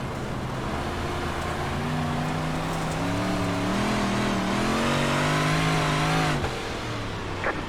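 Big Block Modified race car engines in iRacing drone and rev loudly on a dirt oval at Lincoln Speedway, the pitch climbing and sliding as the cars run close together for several seconds.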